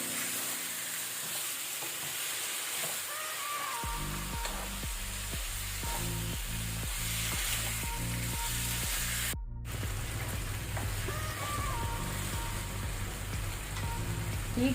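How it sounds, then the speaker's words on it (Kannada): Chicken sukka, Udupi style, fries on a high flame in a steady, continuous sizzle that runs the whole time, with a rhythmic musical backing underneath. "ಈಗ ನಾವು ಹೈ ಫ್ಲೇಮಲ್ಲಿ ಸ್ವಲ್ಪ ಕಲರ್ ಚೇಂಜ್ ಆಗೋ ತನಕ ಇದನ್ನು ಫ್ರೈ ಮಾಡ್ಕೊಳ್ಳುವ."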